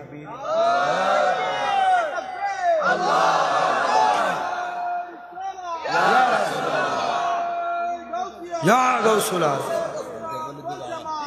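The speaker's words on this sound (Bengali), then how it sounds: "মোহাব্বতের আওয়াজে জোরে তাকবীর" Crowd at a Bengali religious gathering chanting takbir, Allahu Akbar, in loud, repeated unison bursts, four surging call-and-response shouts separated by brief pauses.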